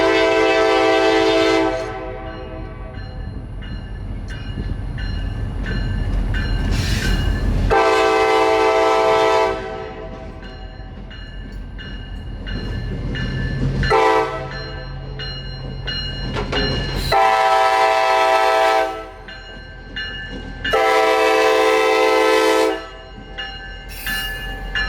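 A freight train led by a locomotive rolls past on a city street, its horn blasting in several long loud blows between stretches of rumbling wheels and engine drone.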